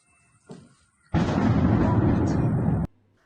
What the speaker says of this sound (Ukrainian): у місті лунають потужні вибухи.